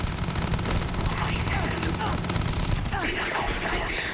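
Rapid automatic gunfire from a gun in the video game Starfield, a dense, steady stream of loud shots that runs nearly the whole time and then thins toward the end.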